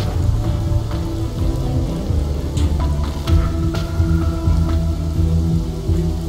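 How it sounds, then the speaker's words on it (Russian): Steady rain in a Teenage Mutant Ninja Turtles: Legends video game patters over a low rumbling background, with scattered drops and faint tones, continuous and fairly loud throughout. "дождь"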